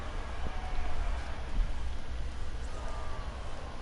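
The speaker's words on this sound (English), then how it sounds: "It is really raining right here." Steady rain pelting down in a Road to the Show 19 baseball video game, a soft continuous hiss with low rumble filling the whole stretch, with no voices over it.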